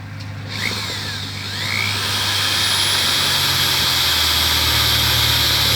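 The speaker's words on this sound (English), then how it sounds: "I put my drill on reverse. I got my 1-inch hole saw in there." A power drill running in reverse with a 1-inch hole saw fitted, making a loud, steady, continuous whirring drone that builds slightly in the first two seconds and then holds.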